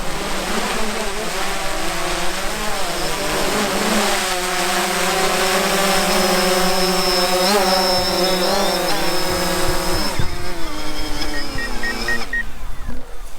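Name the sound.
DJI Phantom 4 drone flying back and landing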